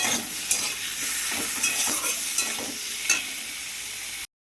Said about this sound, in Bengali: চিংড়ি মাছ পেঁয়াজ একসাথে ভাজা ভাজা হয়ে যাবে